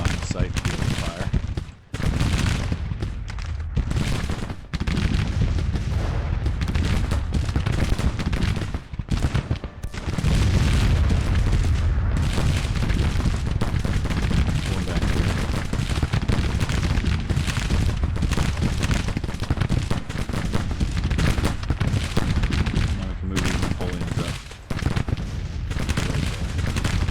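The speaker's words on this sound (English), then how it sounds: "Give 12-pound Napoleons a clear line of sight to be able to fire." Cannon and gunfire from a Grand Tactician: Civil War battle, with 12-pound Napoleon artillery firing amid heavy rifle volleys, a dense, continuous loud roar of overlapping booms and crackling shots with occasional brief lulls.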